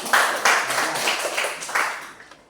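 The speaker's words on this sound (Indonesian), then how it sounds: "Oke, tepuk tangan." A classroom of students clapping together, a short, lively round of applause up close that tapers off at the end, with no speech over it.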